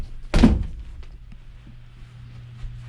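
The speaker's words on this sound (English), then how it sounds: "All right, closing this hatch." A hatch on a 1988 Jamestowner 16 x 64 houseboat is shut with a single heavy, close thunk, followed by a quiet background hum and faint small knocks.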